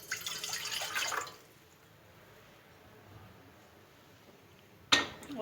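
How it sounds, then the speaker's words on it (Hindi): A glass of water is poured into a cooking pot in a home kitchen, a brief splashing pour followed by quiet and then a short clatter of the pot. "अब जो है एक देगची में मैं 1 गिलास पानी डालूंगी"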